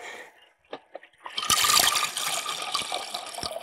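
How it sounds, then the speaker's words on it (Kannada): Water is poured from a vessel onto rice in a regular pot for fish biryani: a few soft taps, then a steady, close gushing pour that carries on to the end. "ಕಣ್ಣಳತೆಯಲ್ಲೇ ನೀರ್ ಹಾಕ್ತಾ ಇದ್ರಪ್ಪ ಇವರು, ಮೆಜರು ಮಾಡ್ಕೊಳ್ದೆ"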